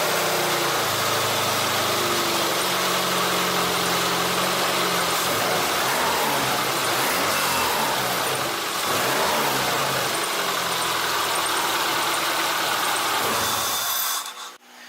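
Subaru EJ22 turbo engine cranking and running with the alternator and power steering belts removed, a steady loud mechanical drone held for about fourteen seconds before cutting off abruptly.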